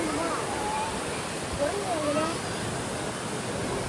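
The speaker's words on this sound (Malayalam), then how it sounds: "ഇവിടെ ശ്രദ്ധിച്ചോ, വെള്ളമൊക്കെ ഒഴുകി വരുന്നത് ഇതുവഴിയാണ്. നേരെ അങ്ങനെ ഒഴുകിപ്പോവും." Water rushes at Courtallam waterfalls near Tenkasi while the flow is low. It makes a continuous, even broadband roar, and a voice talks over it.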